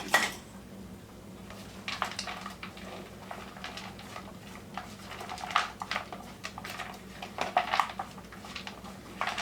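Chicken salad with chopped apples being tossed in a bowl: soft, irregular scraping and clinking of a utensil against the dish with wet squishy mixing, faint and close, no voices.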